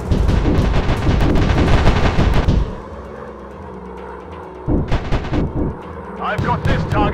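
Gunfire from British warplanes in a WW2 dogfight video game: loud, dense bursts of rapid shots, then a lull with engine drone, followed by further short bursts near the end.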